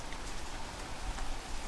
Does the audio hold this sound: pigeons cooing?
no